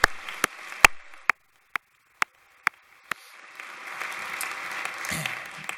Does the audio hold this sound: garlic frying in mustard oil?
no